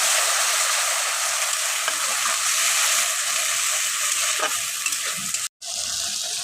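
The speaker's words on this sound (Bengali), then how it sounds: "আদা পেঁয়াজ আর রসুন তিনটা পেস্ট করে রেখেছি এটাকে আমি দিয়ে দিলাম দিলাম আমি এক চামচ আন্তাজ ধনে গুঁড়ো এবার এটাকে আমি ঘেটে নেব" Ginger, onion and garlic paste with coriander powder is stirred in a hot pan, giving a steady bright sizzle with soft scraping strokes and a brief cut-out near the end.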